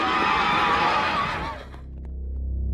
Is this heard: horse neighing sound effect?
yes